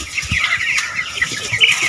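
Broiler chickens on a poultry farm cluck and chatter in a busy, overlapping flock, close and fairly loud, with short repeated calls throughout and no speech.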